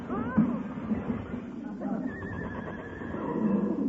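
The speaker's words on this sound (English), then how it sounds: "Heavenly days, a runaway horse in this day and age." A runaway horse broken loose from a delivery wagon gives a shrill, wavering whinny in an old-time radio comedy, heard close under and between voices talking.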